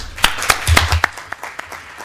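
A small working-group audience claps briefly, a short burst of scattered hand claps that thins out and fades within a couple of seconds.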